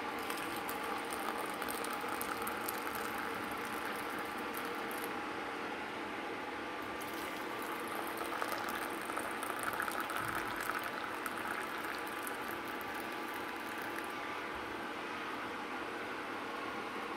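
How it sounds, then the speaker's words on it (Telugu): Chai heating toward a boil in a home kitchen, a steady hissing, bubbling wash of noise that holds evenly throughout at moderate level with no voices. "సో ఇప్పుడైతే చాయ్ గరం చేస్తున్నా"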